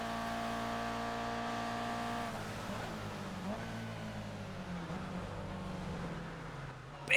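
A race car engine in the iRacing sim drones steadily at high revs, then drops in pitch as the driver lifts, with a sharp louder burst at the very end.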